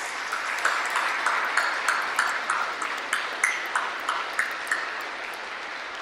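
A crowd applauds steadily, a dense wash of clapping with a faint rhythmic pulse running through it, heard from some distance.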